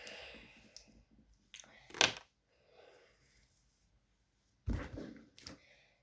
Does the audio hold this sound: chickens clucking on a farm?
no